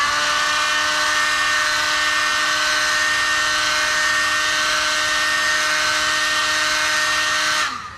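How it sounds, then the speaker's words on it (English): A heat gun blows steadily over the label on a plastic milk jug, a loud, even whine and rush of air with a fixed hum that continues unbroken before cutting off abruptly at the end. "take my heat gun, and I'm just going to heat up over the top of the label"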